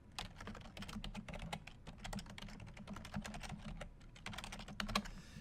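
Rapid, steady typing on a computer keyboard while entering a Pinterest page address into a website form, with dense close clicks and keystrokes running continuously without talk.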